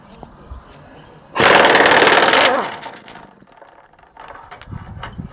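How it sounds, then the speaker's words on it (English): An impact wrench removing a mounting bolt for a Dodge Ram truck step, a single loud burst of about one second of buzzing, close to the mic, followed by faint handling sounds. "I'll switch to my impact wrench just because this makes the job easier"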